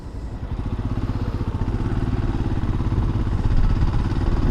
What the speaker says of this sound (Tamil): இப்போ ஆக்சிலேட்டரோட கொடுப்போம்.